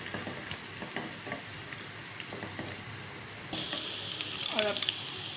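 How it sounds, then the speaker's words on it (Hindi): A spoon scrapes and stirs aloo bharta frying in a pan, soft intermittent scrapes over a steady sizzle, with a louder clatter near the end. "इसको मुसलसल चमचा चलाते रहेंगे।"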